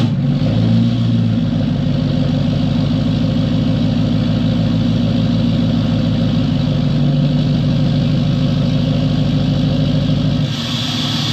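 An L5P Duramax diesel in a Denali pickup idles close by on a cold morning, with a loud, steady low rumble that holds evenly throughout.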